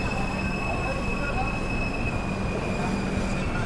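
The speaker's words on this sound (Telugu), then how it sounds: "మన ట్రైన్ వచ్చేసి దాదాపు 22 నిమిషాలు లేట్గా వచ్చేసి మనకు బరంపూర్కి అయితే రీచ్ అయింది" An AC express train pulls into Berhampur station, a continuous loud rumble of railcars with a thin high-pitched wheel whine running steadily throughout.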